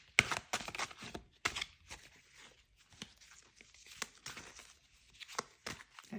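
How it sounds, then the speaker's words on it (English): Tarot cards being shuffled by hand, a dense run of crisp riffling and flicking card noises with sharp papery bursts, close up and fairly quiet, with no talking. "Let me see, how can we shuffle it best?"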